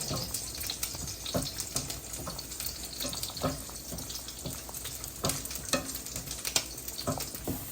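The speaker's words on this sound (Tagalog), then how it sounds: "At eto na ang aming chinichicharon. Malapit na siya." Pork cracklings frying in a pan, with a steady sizzle broken by recurring scrapes and clinks of stirring, heard close and fairly quiet with no voices.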